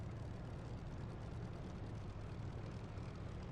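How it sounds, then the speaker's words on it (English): In a flight simulator, an airplane taxies with a low, steady engine drone, faint and unbroken, with no voices. "I'm taxiing."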